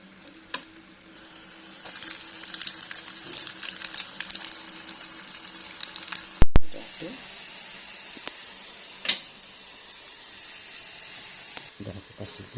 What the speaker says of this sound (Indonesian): Sekarang mau goreng nih kentang kesukaan anak aku.